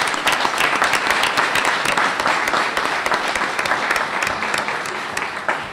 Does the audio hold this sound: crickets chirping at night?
no